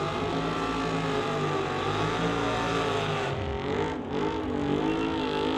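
Engines of a 1966 Ford Mustang and a 1988 Ford Mustang drag racing at an NHRA Summit ET series event, a loud sustained roar with shifting pitch that surges and dips as they accelerate down the strip.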